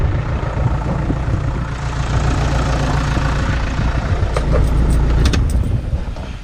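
A dump truck's engine roars loudly and steadily from close by while the truck is driven, with rattling and a few metallic clinks rising over the drone toward the end.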